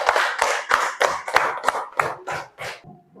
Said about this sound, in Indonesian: Sekarang kita beri tepuk tangan untuk kita semua.